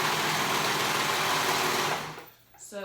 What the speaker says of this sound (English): I'm gonna fold it, short sides together, and sew it up.